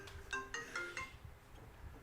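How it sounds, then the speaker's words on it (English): An incoming-call ringtone on a phone plays a quick run of four bright electronic tones, followed by a faint trailing note, fairly quiet against low background noise, with no talking. "we're getting another phone call"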